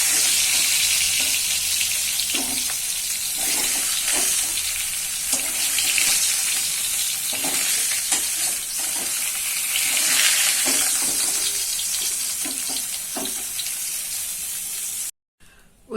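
Pieces of silver carp fry in hot oil with a dense, continuous sizzle close by and scattered pops and spatters, cut off abruptly near the end.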